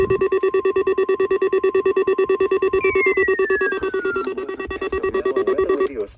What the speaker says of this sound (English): Weather radio station WXL46's warning alarm systems.